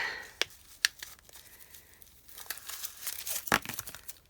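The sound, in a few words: plastic wrapping being crinkled and removed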